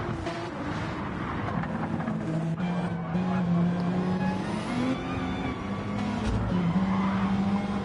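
Race cars lapping through an 11-car race in the NTRL season finale, engine tones rising and falling steadily over continuous track noise, with a faint voice underneath.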